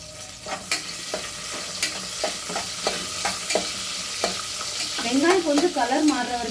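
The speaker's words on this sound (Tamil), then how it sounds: "இதில் ஆனியன்ஸ், ஆனியன் ஃப்ரை ஆகட்டும்" Onions fry in a pot for chicken biryani, a close, continuous sizzle broken by regular knocks and scrapes of a spoon stirring, then a busier burst of crackling near the end.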